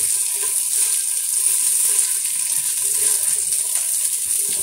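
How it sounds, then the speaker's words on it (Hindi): Tomatoes are tipped into a clay cooking pot and stirred, giving a steady close sizzle and faint scraping that holds evenly throughout with no voice. "अब मैं इसमें टमाटर डाल दूंगी। इसको अच्छी से हिला लूंगी।"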